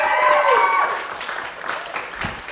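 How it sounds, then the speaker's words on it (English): Brief applause from a live comedy show audience, a short burst of clapping that fades quickly, with a voice speaking over the opening moments. "Everybody, give a round of applause."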